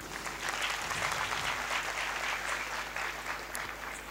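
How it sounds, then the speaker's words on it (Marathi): Audience applause fills the space at a steady, moderately distant level, a dense wash of many hands clapping that holds evenly throughout without pause. "मी एकदा आपल्याकडे टाळ्या मागणार आहे"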